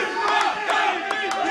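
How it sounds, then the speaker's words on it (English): A dense crowd of StarCraft 2 esports fans cheers and chants steadily, with rhythmic claps punctuating the loud, sustained roar. "He loves his fans cheering for him."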